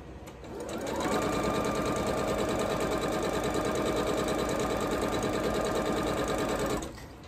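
One continuous, close run of a sewing machine stitching a quilt block, with a rapid, even needle rhythm holding steady for about six seconds before stopping.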